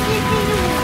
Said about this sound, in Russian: Бедные купаются животные под дождем.